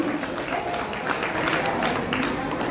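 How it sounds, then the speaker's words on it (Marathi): An audience claps at a Marathi women's community gathering, a dense steady patter of applause filling the space while a voice speaks over it. "सर्वांनी जोरदार टाळ्या वाजवण्यासाठी"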